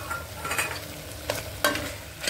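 Onion paste and sliced green chillies fry in a pan of mutton korma, giving a steady low sizzle that a few sharp scraping stirs punctuate.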